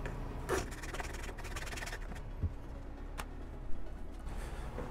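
A tool gently scrapes dried super glue off a plastic vambrace piece, producing quiet, close rubbing and scratching strokes with a few brief, sharper clicks.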